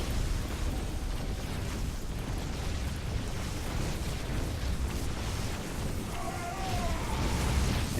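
Rumbling, continuous explosions and bursts as a StarCraft II base is destroyed in battle, dense and steady throughout with no pauses.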